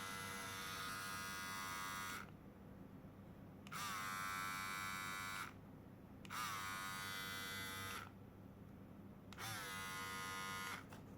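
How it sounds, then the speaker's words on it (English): A Philips MG7920/15 electric body shaver buzzes steadily, switching on and off in four long runs with brief quieter gaps between them, close and fairly loud. "that's the body shaver"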